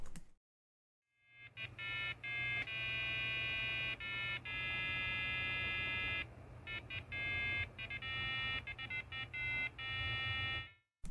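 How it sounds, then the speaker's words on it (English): An MS-5185 Super Socket 7 PC motherboard buzzer beeps in a rapid, irregular series of tones, some long and some clipped short, loud and alone with a faint hum underneath. "And even the buzzer works well."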